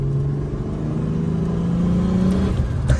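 A turbocharged BMW E36 pulls hard with a loud, close engine drone that holds steady and then breaks off as a gear changes, heard from inside the car without speech.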